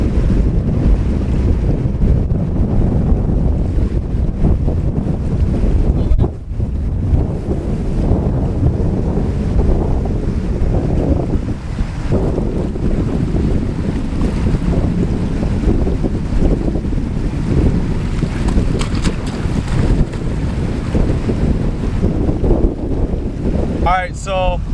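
Heavy wind buffets the microphone throughout while salmon fishing in Alaska, a constant low roaring rumble with gusty surges, masking any other sounds.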